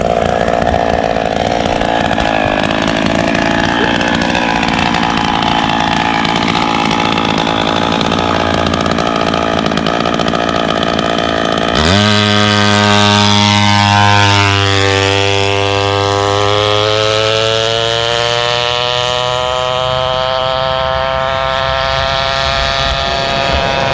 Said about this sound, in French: je lui démarre sa mobilette